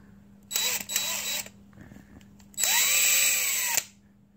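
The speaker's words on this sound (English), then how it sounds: "And we're going to use my trusty drill. It's a DeWalt 20 volt max." A DeWalt 20 volt max cordless drill with an engine valve held in its chuck spins up in two short bursts, then in one longer whine of about a second, close and loud with no talk.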